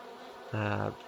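Bees from The Bumble mod in Minecraft give a synthetic buzzing drone that switches on about halfway through and holds steady, loud and close, for roughly half a second before fading.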